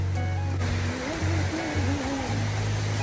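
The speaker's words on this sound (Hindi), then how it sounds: "झरने की होगी" Wei Sawdong Falls, a three-tiered waterfall in Meghalaya, sends out a constant broadband roar of falling water. Faint tonal sounds and a low hum drift over it.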